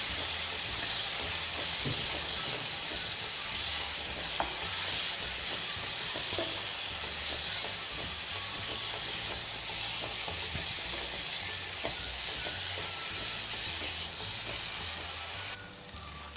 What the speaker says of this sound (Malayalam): ഇനി അരപ്പും പൊടിയെല്ലാം ഇതിലേക്ക് ഇടുന്നിട്ട് നല്ലവണ്ണം മൂക്കണം